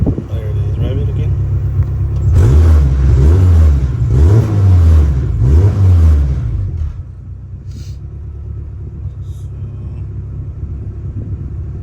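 A turbocharged Honda F20b engine with a GtX3582r turbo, being street tuned, idles with a heavy rumble, then revs up three times in quick succession before settling back to idle.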